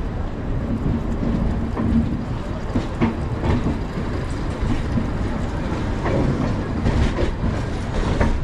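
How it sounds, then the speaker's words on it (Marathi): A passenger train travelling from Kurla to Khed pulls away. A steady, dense rumble and rattle of the carriages comes from on board and continues without break. "आमची तर आता ट्रेन सुटले बघा"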